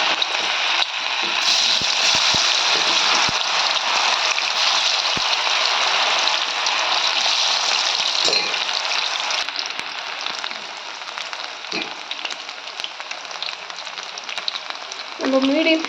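Cauliflower pieces dropped into hot oil for cauliflower chilli, a loud, steady bubbling sizzle that roars for several seconds and then settles slightly quieter, with a few clinks and stirring knocks.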